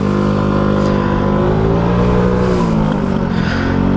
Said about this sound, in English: then just slowly bring the bike round